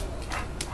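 A dog whimpers and yips softly in two short bursts against a steady background hiss, close by and brief.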